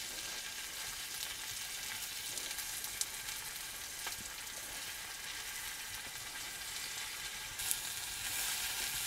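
Vegetables sizzle steadily in a small wok while a spatula stirs them, a continuous close crackle with a few soft scrapes and clicks scattered through.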